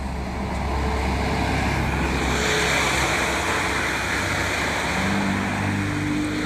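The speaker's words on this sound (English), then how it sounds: "there you can hear that diesel as he has to gun it to get up the hill" A diesel bus revs hard climbing a hill, a broad roaring engine rumble building and holding loud over passing road noise.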